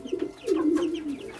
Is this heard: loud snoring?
no